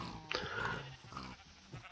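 Sheep bleat in a survival video game, two or three short, wavering cries close together, faint and fairly close, with no talk over them.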